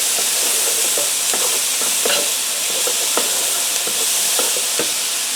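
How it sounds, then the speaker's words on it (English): Pre-diced garlic, about two cloves, sizzles steadily in a hot pan for soup, a continuous crackling hiss broken by scattered pops and a few stirring scrapes, close and fairly loud with no talking. "I'm going to allow this to fry just for a minute."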